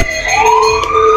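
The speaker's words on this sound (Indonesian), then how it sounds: "Polisi sirinenya ngejer, guys." Wailing police siren in a Roblox game, a loud rising tone sweeping upward and holding steady, close and continuous with no talk over it.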